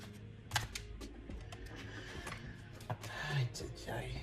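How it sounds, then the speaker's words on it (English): Large tarot cards are shuffled by hand close up, making irregular papery slaps, riffles and clicks with brief mechanical-sounding bursts throughout. "These cards are so big I can never shuffle them right"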